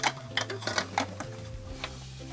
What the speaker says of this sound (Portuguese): agora a gente vai passar uma costurinha aqui pra segurar tudo isso